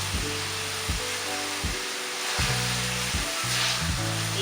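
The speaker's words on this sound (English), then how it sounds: "You hear that nice sizzling on the meat?" Ground meat for spaghetti bolognese sizzles and fries loudly in a pan, a constant close hiss with low stirring bumps and scraping underneath, no voices.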